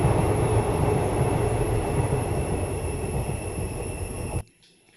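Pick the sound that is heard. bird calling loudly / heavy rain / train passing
train passing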